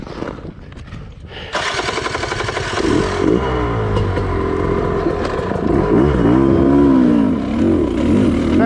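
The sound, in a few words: Sherco enduro motorcycle engine revving in gear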